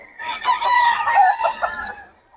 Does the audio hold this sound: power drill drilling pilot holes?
no